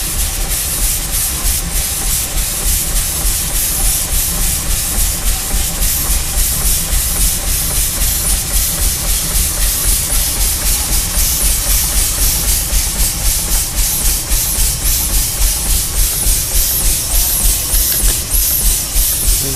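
Loud, continuous steam hissing from a Port Huron steam engine at about ten pounds of pressure, close by, with a faint rhythmic pulsing running under the hiss.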